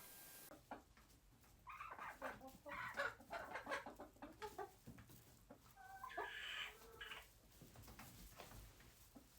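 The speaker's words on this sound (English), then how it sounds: "So these are our barred rocks that we got early in the year." Barred Rock chickens cluck and squawk close by in a backyard flock, with irregular bursts of calls rising and falling over steady low background noise.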